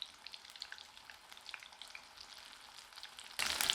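Mushroom and onion pakoda batter frying in hot oil, a steady close crackling sizzle with small pops, rising sharply louder near the end as more pieces drop in.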